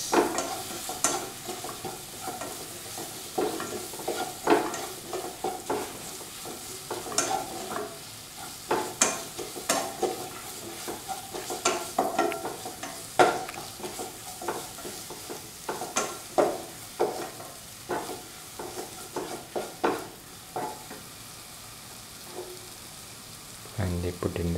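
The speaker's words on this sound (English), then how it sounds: "Put in the green chilies and mix" Green chilies are stirred into vegetables frying in a pan, with a steady sizzle and repeated scraping, clattering stirs close by, and no talk.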